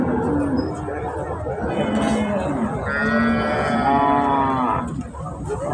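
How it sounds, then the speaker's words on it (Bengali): Cattle low loudly at a busy cattle market. A long, close moo rises over a background of crowd chatter and voices. "বড় বড় গরু পাওয়া যায়।"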